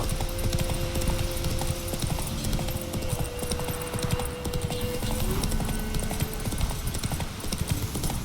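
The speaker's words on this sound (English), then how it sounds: "Run, Roach" Hooves of a horse clip-clop at a steady galloping rhythm in The Witcher 3 video game, close and continuous over a busy background of game ambience and music tones, with no talking.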